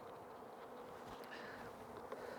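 Dense, steady buzzing of many honeybees swarming over an open hive frame during a spring inspection, a close, continuous drone with no talk over it.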